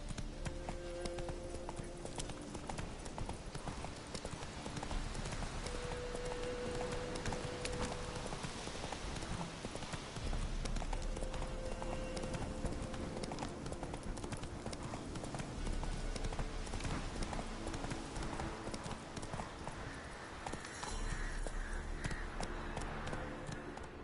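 Roach the horse galloping in The Witcher 3, steady rapid hoofbeats clip-clopping throughout under a dense game soundscape with music, continuous and fairly loud.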